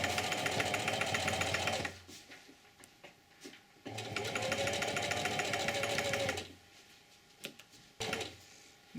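Sewing machine stitching canvas winter moccasin uppers, running slowly in two long bursts of steady mechanical whirring separated by quieter pauses with handling noise.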